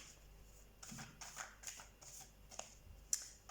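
Tarot cards being handled and drawn, with soft papery shuffling and flicking rustles in short bursts, quiet and close, with a faint voice in the background.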